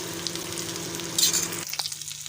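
Toll fish (tola masa) frying in hot oil, a steady close sizzle with a brief louder crackle near the middle before it thins out; no one talks.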